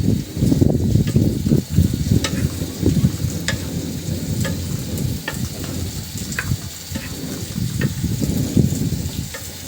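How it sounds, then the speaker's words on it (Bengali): Bottle gourd pieces mixed with spices sizzle and fry in a pan over a stove while a spoon stirs and scrapes, giving sharp intermittent clicks over a steady, close frying hiss. "প্রথমে মশলার সঙ্গে আমি লাউটা মাখিয়ে নিলাম"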